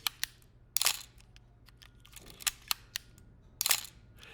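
A vintage camera's shutter release fires repeatedly at different speeds, crisp mechanical clicks and double snaps scattered across a quiet room, some close and sharp, others lighter.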